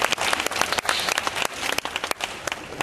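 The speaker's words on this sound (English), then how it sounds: "let's give God a hand clap of praise for being out here tonight" An audience at a North Miami poetry tribute night claps hands in praise, a dense, steady burst of many hands filling the whole moment at close range with no talk over it.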